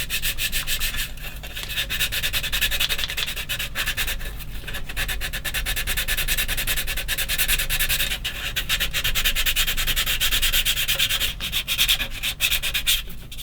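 A fine sander smoothing parts of a 1/16 scale Takom M10 IIC Achilles tank destroyer model, a continuous close, dense abrasive whirr and rasp running without pause for several seconds, no voices.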